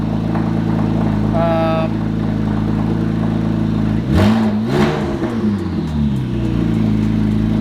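Porsche 911 Turbo engine with a misfire, idling warm-up with a steady low harmonic hum that swells briefly in a rev or surge midway, then settles back to a smooth idle.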